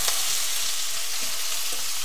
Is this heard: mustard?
yes